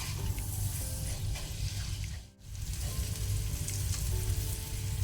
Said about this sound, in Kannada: ಫ್ಲೇಮನ್ನು ಮೀಡಿಯಂ ಟು ಹೈಯಲ್ಲಿ ಇಟ್ಕೊಂಡು ಫ್ರೈ ಮಾಡುವ.